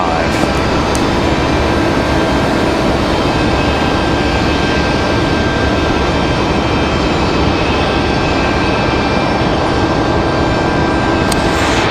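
Republic Airways Embraer E175 jet arriving from LaGuardia, a loud, steady, broadband jet roar sustained throughout, close and unbroken.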